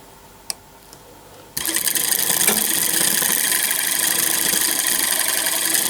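A small DC motor in a classroom demonstration starts up after a quiet moment with a click, then runs with a steady, loud high-pitched whir and buzz that holds constant to the end.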